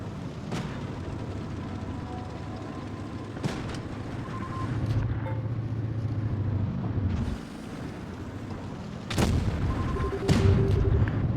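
Heavy cannon booms from World of Tanks Blitz over a constant rumbling engine drone, with a couple of sharp blasts standing out; no talking.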